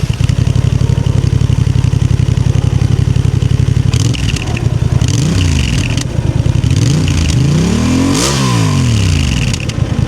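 A stock-exhausted Honda Transalp 750 motorcycle revs repeatedly, the engine idling with a steady throb before climbing and falling in a series of sharp, loud blips, close by and with no one talking.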